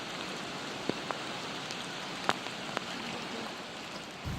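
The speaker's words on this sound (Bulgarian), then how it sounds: "Вали ги пороен дъжд, страхотен." Steady heavy downpour, a dense continuous hiss of pouring rain heard alone, with a few sharper drops or taps standing out now and then.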